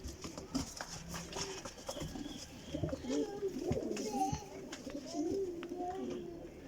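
Racing pigeons at a loft in Sarai Alamgir, Jhelum coo in repeated soft throaty calls, several birds overlapping nearby, with faint background noise throughout.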